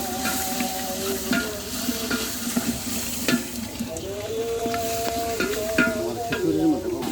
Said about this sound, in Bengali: আর তো রসুন দিই।